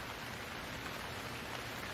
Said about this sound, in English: The window shows the rain has increased